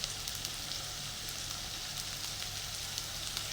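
Potatoes frying in a pan, salted and spiced, for a savoury tart: a steady, dense sizzle and crackle of hot oil with no break, close by and even in level, with no talk.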